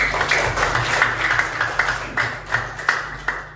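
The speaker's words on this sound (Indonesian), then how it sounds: "Tepuk tangan dulu buat teman kalian semuanya." Students in an Islamic religious education classroom clap for a classmate who answered a question, a series of roughly even, rhythmic group claps over a low electrical hum, with no talking.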